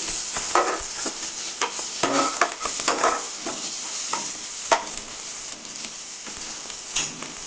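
Onion frying in a pan as the base for a mushroom gravy, with a steady sizzle and bursts of stirring scrapes and clinks from a spoon against the pan, close and clear with no talking.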